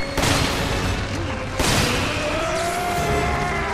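Rocket fire in Resident Evil 5 co-op play, two heavy blasts about a second and a half apart, loud and close over a continuous bed of game gunfire and noise.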